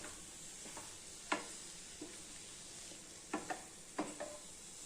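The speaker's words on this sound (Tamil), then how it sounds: "இப்போ நல்லா கிளறிக்கலாங்க" Motichoor laddu mixture with crushed edible camphor being stirred, soft scattered scraping strokes over a faint steady hiss, close but quiet, with a handful of sharper clinks.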